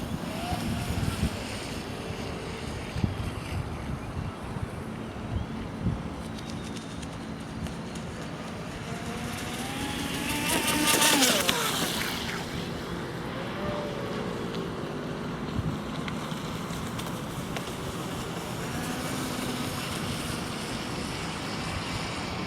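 A Graupner Electro-Vee radio-controlled electric race boat runs on a park lake, its motor a thin whine that swells as it passes closer around the middle, over steady wind and water noise outdoors.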